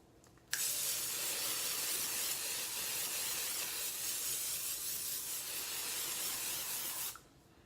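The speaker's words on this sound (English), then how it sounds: "To seal the deal though, Mom's hairspray." Hairspray from an aerosol can hisses in one steady, continuous blast lasting several seconds, close and fairly loud, starting and stopping abruptly with no talking.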